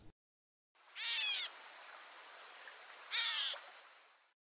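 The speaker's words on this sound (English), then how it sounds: "We listen to a gray catbird, the first of the morning, mewing from the thickets above us." A gray catbird gives two nasal, cat-like mewing calls a couple of seconds apart from thickets, fairly faint and set against a quiet morning outdoor background by a creek.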